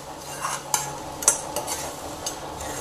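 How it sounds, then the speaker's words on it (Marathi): A ginger, garlic, tomato and coriander paste is stirred in a hot pan for a soyabean masala, with a soft sizzle under a few sharp clinks and scrapes of the spoon, close and with no talk. "आता आपण ही हलवून घेऊयात।"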